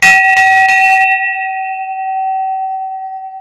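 A temple bell is struck before darshan, giving a loud metallic clang with a brief rattle, then a long clear ringing tone that slowly fades.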